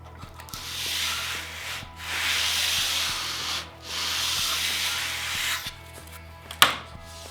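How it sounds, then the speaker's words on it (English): A belt sander with 120 grit sandpaper grinds across wood in several long, steady hissing passes separated by short pauses, close and moderately loud, ending with a sharp knock. "I'm going to take it the rest of the way to the line using my belt sander"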